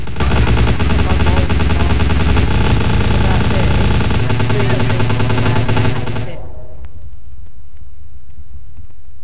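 Uzi fire in the video game Vampire the Masquerade Bloodlines rattles in loud, continuous automatic bursts for about six seconds, then cuts off, leaving faint sounds behind as a voice talks.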